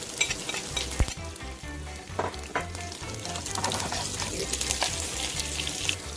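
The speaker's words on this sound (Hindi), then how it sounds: "अब इसमें मैं हरी मिर्चें, मीडियम फ्लेम में तड़का रेडी करना है।" Tadka of green chillies, kalonji, cumin and whole red chillies sizzles in hot oil over a medium flame for moong masoor dal, a steady close crackling fry with stirring clatter throughout and no talk.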